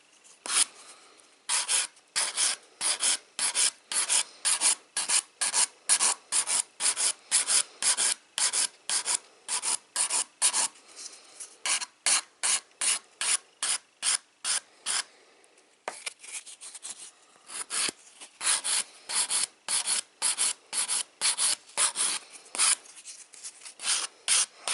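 Nail ends on a practice hand are filed and beveled with a rasp, producing a long series of short, crisp scratching strokes in quick regular rhythm, close and clear, with brief pauses between runs.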